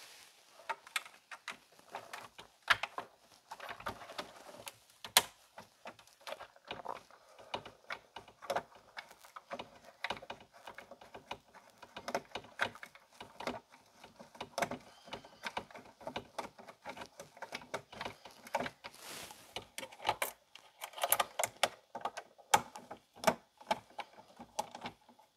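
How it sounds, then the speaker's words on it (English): Light, irregular metallic clicks and ticks from a screwdriver or driver undoing a ground screw inside a Bosch refrigerator's ice maker, faint and close, continuing without talking. "One more ground screw right down here that has to get undone."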